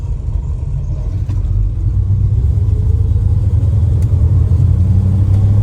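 A cold-blooded Mopar car engine idles nearby, a steady, loud, low rumble that swells slightly and holds even without any voices.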